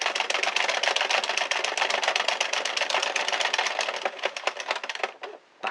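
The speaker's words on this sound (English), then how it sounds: "Bring it under your first needle and back into your yarn feeder. Like that, and knit one row." A hand-cranked circular knitting machine knits one row of yarn: a rapid, even clatter of needles, close and steady, slowing and stopping near the end.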